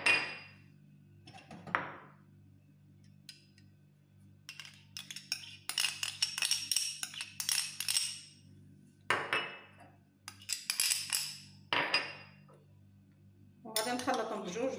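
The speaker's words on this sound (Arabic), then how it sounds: "دابا غنخلط هذيك صلصه الطماطم مع الياغورت مسوس" A utensil scrapes and clinks against a bowl while tomato sauce and yogurt are mixed, coming in short irregular bursts of clatter separated by quiet pauses.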